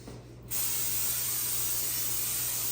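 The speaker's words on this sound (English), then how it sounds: "Let me go ahead and spray that." A continuous cooking spray hiss starts abruptly after a brief pause and holds steady and loud to the end, broadband and close.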